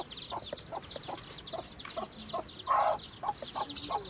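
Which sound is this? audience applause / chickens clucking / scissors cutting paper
chickens clucking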